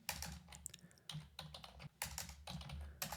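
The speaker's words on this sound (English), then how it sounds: "I just can type in Python 3 version." Quick bursts of keystrokes on a computer keyboard as a command is typed into a terminal, with close, crisp clicks broken by brief pauses.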